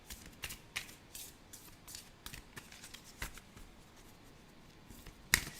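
A deck of tarot cards being shuffled by hand, soft irregular riffling and flicking bursts with one sharper snap near the end, close and quiet, with no voices.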